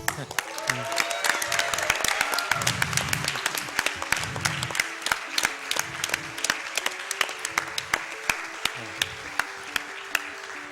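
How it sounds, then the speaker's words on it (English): An audience at a live speedrunning marathon claps and cheers after a Pokemon Yellow run, crisp claps rattling through the whole stretch while people talk and murmur underneath. "Another round of applause for him, please"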